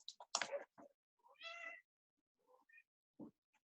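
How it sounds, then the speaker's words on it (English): A cat indoors meows a few times, close and fairly clear, in short separate calls with quiet gaps between them, in a room where it has been shut in. "I think the cat wants to leave"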